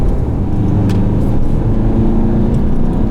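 Peugeot 508 GT with a 177-horsepower engine climbing a winding road in normal driving mode, a steady loud low engine drone and road rumble heard from inside the cabin.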